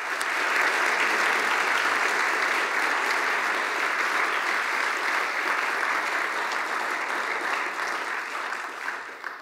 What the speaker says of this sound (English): we'll just give Ryan a round of applause